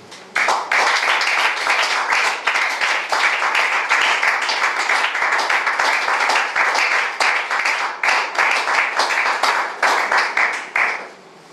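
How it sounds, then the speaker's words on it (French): Congregation applauding in a church, sustained dense clapping from many hands filling the space, loud and steady throughout before stopping abruptly near the end. "Acclamons la parole de Dieu."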